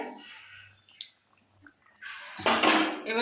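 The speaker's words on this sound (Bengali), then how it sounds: "আমি একটা পাত্রে নামিয়ে নেব।" Cooked lentil fritters in a thin gravy are moved from the pan into another pot, with a metal clink, soft scraping and a louder clattering scrape of utensil against cookware at the end.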